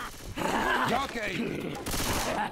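Rapid submachine gun bursts in the video game Left 4 Dead 2, short overlapping volleys of gunfire with players shouting over the shooting.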